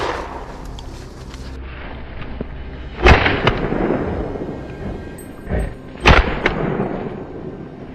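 Rifle shots fired at a wild boar during a mountain hunt: two loud, sharp cracks about three seconds apart, each followed by a rolling echo, over a steady outdoor rumble.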